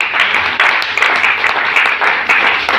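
A church congregation claps in a dense, sustained burst of loud applause that carries on evenly for a few seconds.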